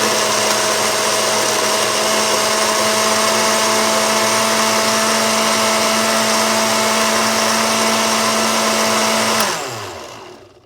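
A countertop blender whirs loudly on high speed blending a smoothie, a steady close motor roar with a constant hum that then winds down and fades at the end.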